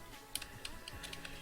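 Quiet typing on a Glab computer keyboard, a string of light irregular key clicks at close range, with no talk.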